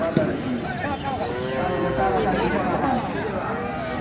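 Cattle low and moo at a busy rural cattle market selling heifers and bull calves, several overlapping moos rising from a constant crowd hubbub with people talking nearby.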